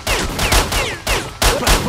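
Rapid gunshots in STALKER: Shadow of Chernobyl, four loud close reports spaced evenly about half a second apart, each with a sharp crack and short ringing tail, no talk over them.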